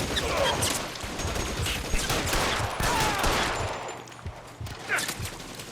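Rapid bursts of gunfire rattle through a shootout in the video game L.A. Noire, dense overlapping shots and automatic fire crackling without pause at moderate volume.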